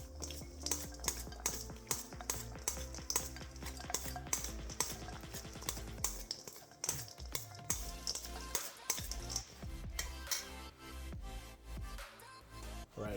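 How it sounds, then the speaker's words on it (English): A utensil stirs a striped bass salad dressed with fresh lime, giving repeated clinks and scrapes against a bowl with a steady rhythm, close and moderately loud. "Give that a good stir."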